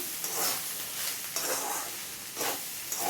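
Rice and eggs stirred together in a kadai for homemade mixed rice, a steady close scraping and sizzling with a few louder spatula sweeps spaced through it, no voices.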